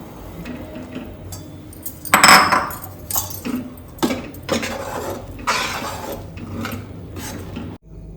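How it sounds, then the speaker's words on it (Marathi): Rice flour going into boiling water with salt and ghee for traditional ukadiche modak dough, stirred in a pot: irregular metallic clinks and scrapes of utensil on cookware, with a sharper clatter near the start, and no talk. "पाण्याला उकळी आलेली आहे आता आपण पीठ ओतून घेऊया"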